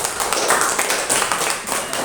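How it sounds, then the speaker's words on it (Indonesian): A classroom audience claps for a student group presenting, with a dense, continuous patter of hand claps spread across the whole moment at steady loudness. "Ya, tepuk tangan."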